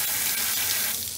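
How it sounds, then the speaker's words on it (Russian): Hot water pours steadily from a shower tap turned to maximum, a dense continuous hiss of running water heard close and alone. "Включаю сразу горячую воду."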